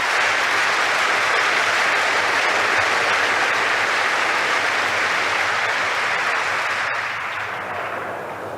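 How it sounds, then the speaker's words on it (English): Crowd applause at the Wimbledon ladies' tennis final, a dense, sustained clapping from a large stadium audience that holds steady for several seconds before tapering off slightly toward the end. "supporting the players with the applause as we waited for the replay to show on the big screen"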